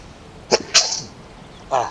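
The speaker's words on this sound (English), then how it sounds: "I start recording and at some point I have to sneeze" A single sharp human sneeze, loud and close, with a short intake beforehand and a brief vocal sound trailing after it.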